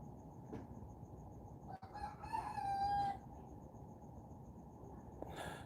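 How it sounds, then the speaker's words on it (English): A rooster crows once from a moderate distance, a drawn-out call rising over steady background noise, with a few softer knocks and rustles around it. "She's trying to negotiate with the rooster right now."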